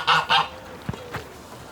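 Geese in a farmyard pen give two loud, close, rapid honks, followed by a couple of softer, shorter calls.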